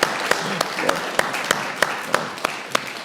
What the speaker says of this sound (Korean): 하나님께 한번 감사의 박수를 우리 한번 함성과 함께 올려드렸으면 좋겠습니다